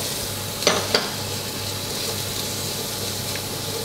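Onions and carrots cooking in butter in a pot over medium heat for butternut squash soup, a soft continuous sizzle with two sharp clinks from a utensil early on, close and steady, no voices.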